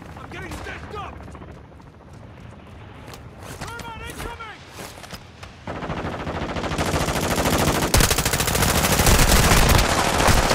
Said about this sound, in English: I just emptied a fucking mag on him.